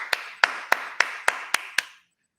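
A classroom group claps in unison, seven sharp, evenly spaced claps in a steady rhythm, close and crisp, followed by silence.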